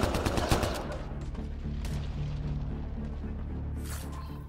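Gunfire in the video game Mass Effect: Andromeda, a burst of loud rapid shots and cracks at the start settling into a dense rumbling battle din with scattered sharper reports, no talk.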